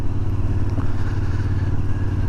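A Royal Enfield Interceptor 650 twin motorcycle cruises in fourth gear at about 30 mph and just over 2,000 RPM, its steady, low, throbbing engine note loud and close throughout with wind rush layered above.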